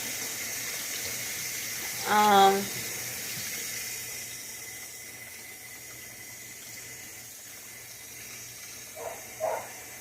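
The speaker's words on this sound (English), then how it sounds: "I'm washing dishes because my butt needs to do dishes" A kitchen tap runs in a steady, even hiss while dishes are washed by hand, with a brief voice-like sound near the start and two short faint sounds near the end.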